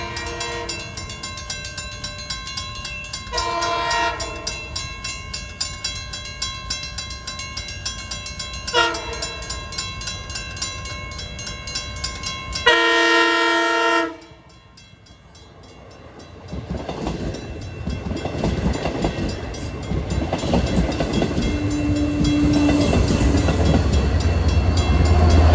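Cannon Ball passenger trains 2708 and 2798 pass near a crossing, sounding repeated loud horn blasts in several bursts, then fading into a steady rumble and clatter of railcars rolling by.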